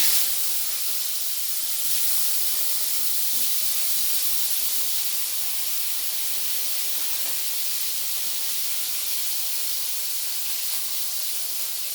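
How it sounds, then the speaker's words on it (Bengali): Eggplant pieces frying in hot oil left over from frying potatoes make an even, soft, continuous hiss that holds steady from start to end. "ওই তেলের মধ্যে আমি বেগুনগুলোও এবার ভেজে নেব"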